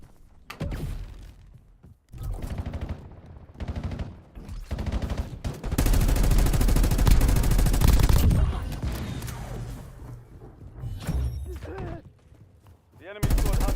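Video game gunfire comes in bursts and sustained automatic volleys, loud and close, with brief gaps and clunky mechanical thuds between the firing.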